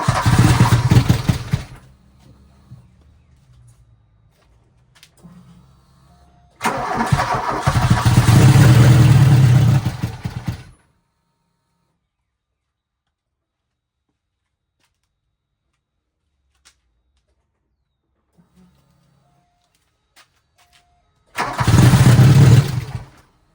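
A VW Mk2 Scirocco 16v engine fires up in short bursts, roaring loud for a few seconds at a time, then dropping to near silence between attempts, with faint low rumbling in the gaps.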